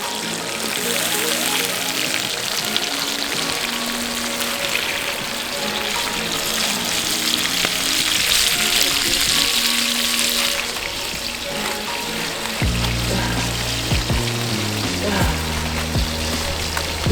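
Yellow striped surgeonfish frying on a grill outdoors in Hawaii, a steady loud sizzle and crackle with broad hiss throughout, dense and continuous with no talk.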